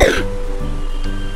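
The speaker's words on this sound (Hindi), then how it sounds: "खांसी करो और जोर से" A patient coughs hard once at the start, a sharp burst followed by a short throaty rasp, close and loud.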